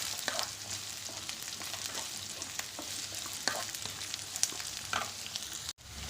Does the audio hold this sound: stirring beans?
yes